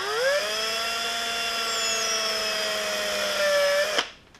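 Sharpened hand tool cutting a hole through foam, a steady loud whirring with stable tonal harmonics held for about four seconds, then stopping abruptly near the end.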